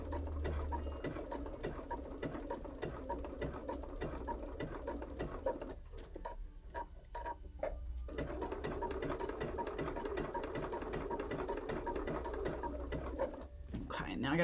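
Sewing machine zigzag stitching a rope coaster, a steady rapid mechanical whirr of the needle that pauses briefly midway while the work is turned, then resumes.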